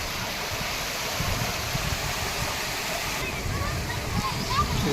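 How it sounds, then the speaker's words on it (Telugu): Chaparai waterfall, a cascade near Araku, sends flowing water in a steady broadband rush, with light splashing. "ఇది వాటర్ చాలా ఫ్లో అవుతుంటుంది, చాలా బాగుంటుంది పోవడానికి."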